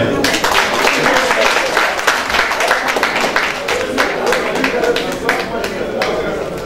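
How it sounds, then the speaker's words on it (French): Steady applause from an awards ceremony audience at the Ivoirebusiness Awards 2013, dense clapping close and loud throughout, with a voice speaking over it. "Ça mérite des applaudissements."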